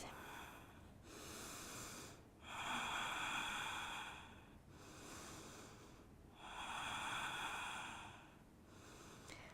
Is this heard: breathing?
yes